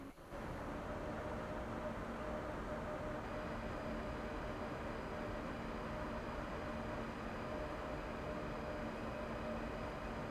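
Train accelerating under power in Train Sim World 3 on the Kassel to Wurzburg line, a steady low hum and rumble with faint hiss, even and continuous throughout, without any voices.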